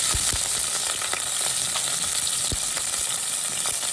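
Mustard seeds, cumin, curry leaves and chopped green chillies sizzle hard in hot oil, a loud, dense crackling hiss with scattered sharp pops from the spluttering seeds throughout.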